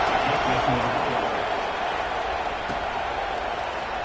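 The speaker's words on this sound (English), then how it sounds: "this crowd is buzzing after that last score" A stadium crowd in the NCAA 26 football video game keeps up a steady, dense buzzing roar throughout, a broad wash of cheering with no distinct breaks.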